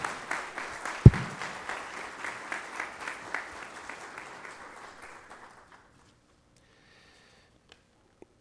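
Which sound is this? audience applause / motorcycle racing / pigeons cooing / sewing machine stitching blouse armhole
audience applause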